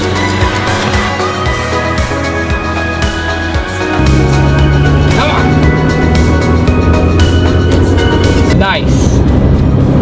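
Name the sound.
Honda Civic EF car driving on a test drive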